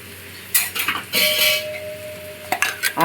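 Spices and masala being stirred in a metal cooking pot while making chicken kulambu, with sharp ladle scrapes and clinks against the pot in short bursts, close and loud, over a faint sizzle.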